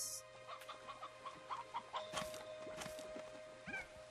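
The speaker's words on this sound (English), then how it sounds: "Chickens." Chickens clucking in the video game Slime Rancher 2, a series of short, faint clucks and squawks scattered across a quiet in-game background.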